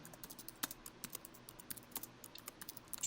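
Rapid typing on a computer keyboard, a quick irregular patter of crisp key clicks with a few sharper strikes, close and fairly quiet, without speech.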